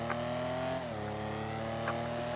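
A Sterling GT in GTA Online holds a steady high-revving engine drone at speed, its pitch dipping briefly as it shifts before settling into a sustained roar, loud and continuous with no talking.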